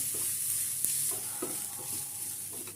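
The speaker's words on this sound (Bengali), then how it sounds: "দিয়ে পেঁয়াজের সাথে আদা রসুনটাকে একটু ভালো করে ভেজে নেব" Onion, ginger and garlic frying in a pan, a soft steady sizzle with a few light stirring scrapes, close but quiet, no voices.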